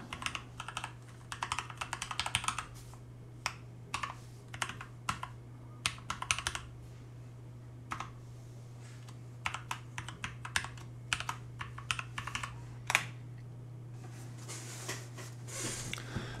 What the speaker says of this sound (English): I'm going to type Blink.